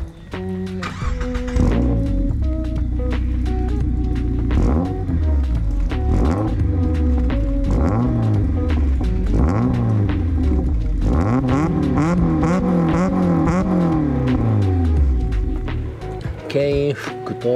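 A Mazda Roadster NB6C with a six-speed swap, Maxim exhaust manifold and aftermarket straight-through muffler revs repeatedly up and down close by, loud rising and falling engine tones with someone talking over it.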